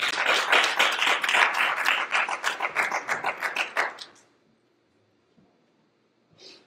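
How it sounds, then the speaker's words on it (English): A church congregation claps in praise during a Sunday worship service, a dense burst of many hands that tapers off after about four seconds into near silence, with a faint stir at the end. "Give the Lord a hand clap of praise if you will."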